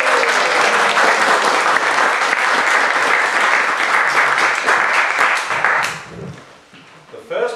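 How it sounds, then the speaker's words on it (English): An audience at a Toastmasters club meeting bursts into loud clapping and cheering that holds steady for several seconds, then tapers off quickly as a voice begins speaking near the end. "A big round of applause."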